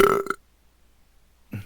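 A single loud, close burp, short and throaty, followed by silence and a faint low sound at the end.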